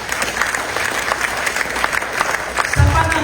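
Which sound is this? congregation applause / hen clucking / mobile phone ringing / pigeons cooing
congregation applause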